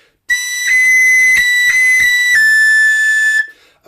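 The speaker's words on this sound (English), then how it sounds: "Now, a lot of whistles, I play my high C." A tin whistle sounds a sustained high C, bright and piercing, re-tongued several times with short breaks in the tone before it stops.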